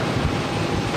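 Delta Airlines Airbus A330-300 from Amsterdam arriving at Boston Logan, a brief steady low engine rumble with some wind buffeting on the microphone, no voices.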